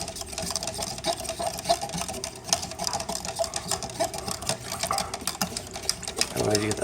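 A clove bud oil mixture is stirred briskly in a container, giving a quick rhythmic clicking and swishing close by, with a brief splash near the end.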